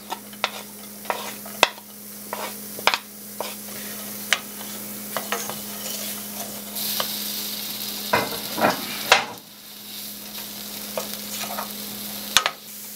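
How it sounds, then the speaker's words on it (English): Onions sauté in a little butter in a pan, a steady soft sizzle broken by repeated scraping stirs and a few louder clattering bursts, with no talking. "we'll saute our onions and a little bit of butter until they're"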